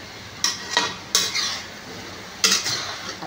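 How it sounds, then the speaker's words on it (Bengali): Kalmi greens being stir-fried in oil in a pan give about four quick metal spatula scrapes and stirs, each with a short sizzling swish, close up and with no talk. "শাকটা প্রায় ভাজা হয়ে গেল।"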